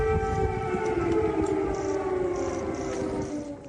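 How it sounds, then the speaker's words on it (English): Air raid sirens wail across central Kyiv in wartime, a loud, steady droning tone with layered pitches that holds without a break. "Air raid sirens rang out as Biden walked through central Kiev"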